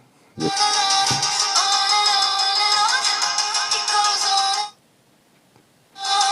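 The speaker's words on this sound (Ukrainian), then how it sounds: "Давайте включаємо, слухаємо, як воно грає." A tinny electronic melody plays steadily from the small speaker of a Haylou S6 smartwatch for several seconds, stops briefly, then resumes.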